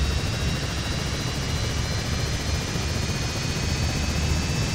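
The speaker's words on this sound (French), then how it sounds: "Donc le moteur droit qui démarre tranquillement" Right engine of an aircraft starting up in Microsoft Flight Simulator 2020, heard from an external view as a steady, loud broadband roar with a faint rising whine above it, continuous and without talk.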